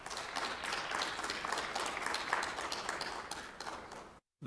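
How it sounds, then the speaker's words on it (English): Steady applause from a group gathered at a community services department monthly meeting, a dense wash of clapping that holds for about four seconds before a brief silence. "let's give a round of applause to Kelly and Mel."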